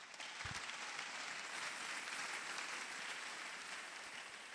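A church congregation applauds in a sustained, even wash of clapping from many hands, steady and fairly distant for several seconds.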